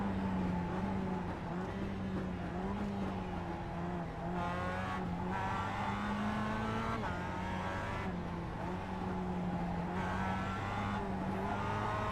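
A production race car in iRacing at Summit Point Raceway drones steadily with a strong engine tone, shifting pitch as it slows and gears change through a hard braking zone and picks up again, continuous and close with no voices.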